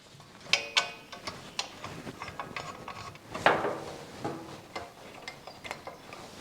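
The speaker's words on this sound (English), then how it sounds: "Now with the ratchet, we can tighten each bolt." A hand ratchet tightens skid plate bolts on a BMW F900GS motorcycle, giving close, crisp clicking in irregular runs with a few sharper metallic clacks.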